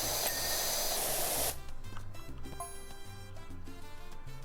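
Pressure washer spray in the video game PowerWash Simulator 2: a loud, steady hissing jet for about a second and a half, then a quieter patch with low rhythmic tones underneath.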